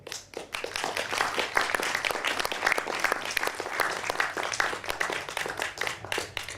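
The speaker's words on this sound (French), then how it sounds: "Je vous demande d'applaudir Steve Boulot." Theatre audience at the Théâtre Blanche de Castille in Poissy applauding a speaker, a crisp, close burst of many individual hand claps, steady for several seconds before thinning out at the end.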